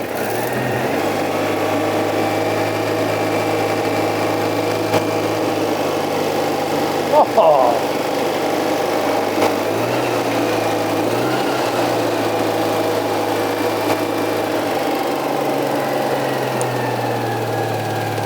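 A 1970s German classic barn-find car, run from a power pack with the choke out, idles steadily and close with a constant low engine drone, a brief clunk midway, and a voice briefly speaking over it.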